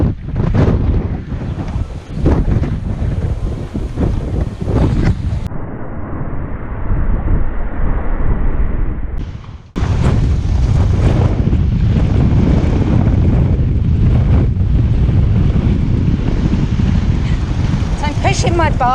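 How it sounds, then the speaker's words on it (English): Ocean surf washes onto a Spanish beach beside a road lined with surf schools and cafes. A loud roar of breaking waves mixes with heavy wind buffeting the microphone, and the sound drops briefly before surging back at full strength. "The surf."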